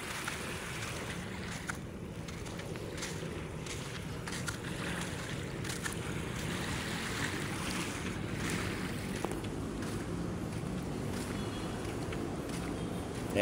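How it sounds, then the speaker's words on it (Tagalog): Steady outdoor wash of wind and surf along the Manila Bay shoreline, with low broadband rumble suggesting boats and water movement, constant and fairly loud throughout with no clear talk. "Ayan ang ating Manila Bay. Ayan, nakita nyo, ang daming barko, no."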